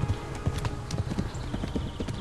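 Horse hooves trotting in the medieval video game Kingdom Come: Deliverance, a steady rhythmic clip-clop of repeated hoofbeats, close and moderately loud.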